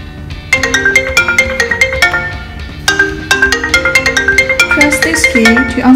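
A phone ringtone plays through a Bluetooth-connected smart motorcycle helmet: a loud, bright, looping electronic melody of rapid repeated notes that restarts partway through and runs steadily for several seconds with no talk.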